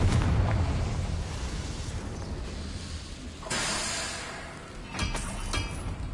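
A fiery Confringo spell exploding in the Hogwarts Legacy video game, a heavy rumbling blast that fades into hissing debris, followed by a second whooshing burst and a few sharp crackling pops.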